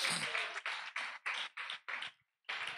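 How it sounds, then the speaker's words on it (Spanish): A church congregation claps in a steady beat, roughly seven sharp bursts of palms close together, then a short pause before the clapping resumes. "Dele palmas a su nombre."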